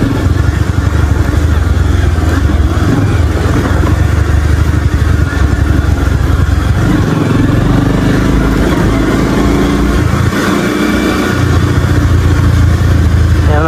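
Motorcycle ridden along a rough road, its engine a steady, loud drone throughout with heavy wind buffeting the microphone and no pauses.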